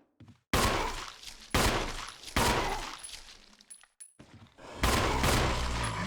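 Gunfire in the Resident Evil Remake video game, four loud, sharp shots spaced about a second apart, each trailing off before the next, with brief quiet gaps between.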